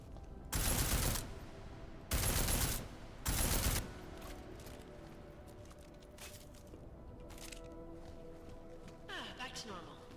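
Three loud bursts of gunfire in Deus Ex: Mankind Divided, evenly spaced within a few seconds, then quieter game ambience with footsteps.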